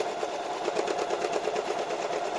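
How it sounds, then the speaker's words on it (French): An industrial sewing machine stitches a bellows pocket with a steady, rapid, continuous whirring run of needle strokes, loud and close, with no talk. "Je couds mon soufflet."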